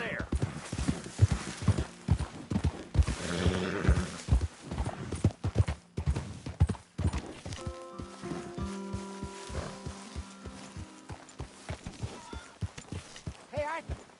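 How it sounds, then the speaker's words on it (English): Horse hooves clip-clop in Red Dead Redemption 2, a fast irregular run of hoof strikes that slows into spaced steps, with game character voices talking over parts of it and a neigh-like tone in the second half. "Careful with that horse, Arthur."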